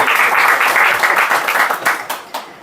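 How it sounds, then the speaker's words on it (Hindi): Loud applause rings out from the audience at an Urdu poetry mushaira, dense clapping that thins out into a few scattered final claps. "एक बार उनके लिए ज़ोरदार तालियां आदिल साहब।"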